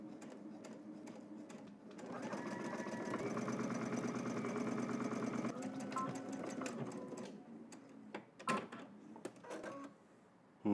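A sewing machine stitches a button-up shirt seam with a 3/8-inch allowance, a steady mechanical whir running for several seconds before stopping, followed by a few close clicks and handling noises.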